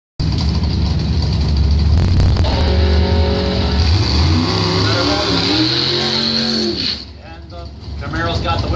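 A 1967 Chevrolet Camaro launches hard at a drag strip event; its engine roars and climbs steadily in pitch as it pulls away, then drops off near the end, with a track announcer talking over it throughout.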